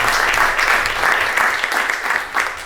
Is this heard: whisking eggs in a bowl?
no